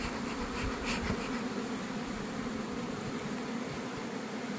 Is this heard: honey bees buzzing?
yes